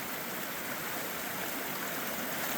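The Zigzag River on Mount Hood, a forest stream, rushes in a steady, even wash of flowing water, soft and continuous with no other sounds.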